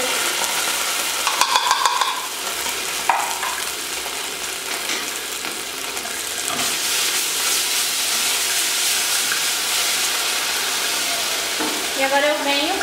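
Garlic and tomato paste fry in hot lard with a steady hissing sizzle, broken by a few scraping stirs and clinks from a utensil in the pan, close and continuous.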